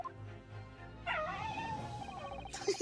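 A dog whimpers in The Great Ace Attorney Chronicles, a thin rising whine that wavers for over a second over a low game music bed, with a brief yip near the end.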